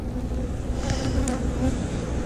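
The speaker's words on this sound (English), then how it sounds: "I mean, this box has lots and lots of bees in it." Honey bees buzz inside a crowded hive box, a dense, continuous drone that is close and even throughout.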